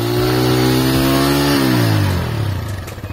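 A TVS Rider 125 motorcycle engine revs loud and close, its pitch holding high before dropping away as the throttle closes and settling into a lower idle, with no voices.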